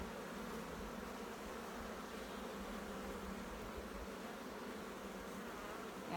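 Honey bees buzz at an opened hive during an inspection, a soft, continuous swarming drone close by with no talk.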